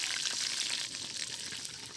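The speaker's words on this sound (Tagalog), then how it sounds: "Ayan ang ipreprito natin." Food frying in a pan of hot oil, a steady bright crackling sizzle that fills the short stretch evenly and close up, with no talking.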